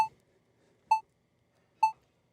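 Three short electronic beeps from Adobe Premiere Pro at an even pace, each clean and bright, separated by near silence.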